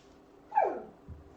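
A single short dog bark rings out at moderate distance, followed by a faint low yip or whimper.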